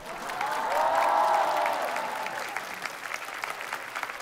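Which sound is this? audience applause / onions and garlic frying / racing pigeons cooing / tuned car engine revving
audience applause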